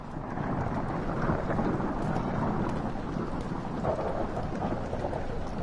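Steady rain and rumbling thunder from the rainy hall level of the horror game Amnesia: The Dark Descent, a dense continuous downpour with deep low rolls running throughout, no voices.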